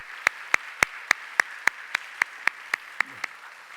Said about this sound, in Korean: 네, 다 함께 박수하겠습니다